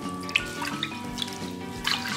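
Rice is rinsed with water in a home kitchen, a short burst of close sloshing and swirling water with small splashes and drips.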